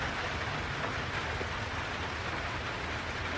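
Hard rain falling steadily in a forest at Jefferson Memorial Forest, heard from beneath a shelter as a dense, even hiss of drops that holds constant throughout with no voices.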